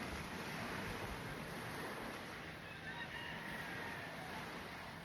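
Steady ocean surf washes onto a beach in the Philippines, a continuous soft roar of waves heard from a distance with faint crowing somewhere in the background.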